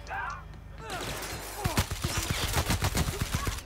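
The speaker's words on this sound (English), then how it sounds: "Why did they start shooting me?" Enemies open fire in The Outer Worlds: a rapid burst of gunshots crackles in quick succession for a few seconds, moderately loud, after a brief spoken line at the start.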